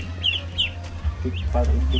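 Muscovy ducks on a farm call in short, scattered bursts over a steady low hum, with faint voices in the background.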